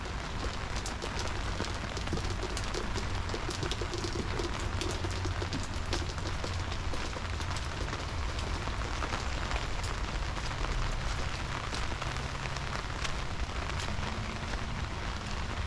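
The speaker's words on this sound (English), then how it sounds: "I can see there's rain and water ponding" Heavy rain pours steadily onto a flooded garden, a dense, unbroken hiss and patter close by with no voices, holding at the same level throughout.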